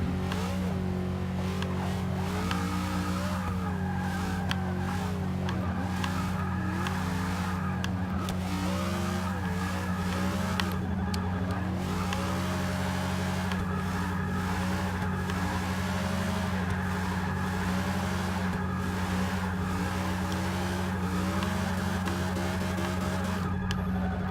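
A 1969 Pontiac Firebird drifting with all-wheel drive in Forza Motorsport 6, its engine droning and revving steadily with tires squealing and skidding throughout, loud and close.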